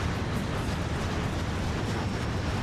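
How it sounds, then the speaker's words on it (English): Dense, continuous rumbling blasts from an onscreen barrage of explosions in the video game Ratchet & Clank, with overlapping booms forming a steady loud wash throughout. "That is a lot of explosions on the screen right now."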